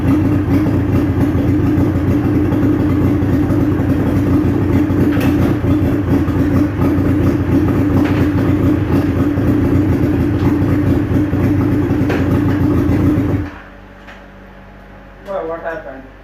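A dune buggy engine with a weak battery labors through its first start-up, producing a loud, rough, continuous mechanical rumble for about thirteen seconds before cutting out abruptly, followed by a brief voice in the quiet.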